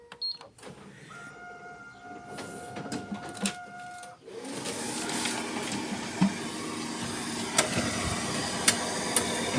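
A Riso EZ 200E printer starts up after being switched on, beginning with beeps and short motor whines, then settling into a loud continuous mechanical rumble and rattle with occasional clicks, close by.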